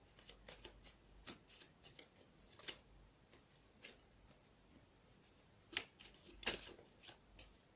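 Tarot cards are shuffled softly and close by, a quiet sequence of light riffling snaps and taps with scattered louder flicks.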